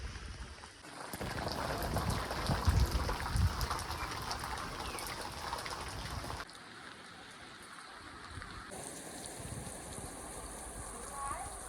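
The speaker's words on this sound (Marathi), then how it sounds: "पाऊस परत सुरू झाला." Steady rain pours down as a dense hiss, heavier at first, then easing to a softer, continuous patter.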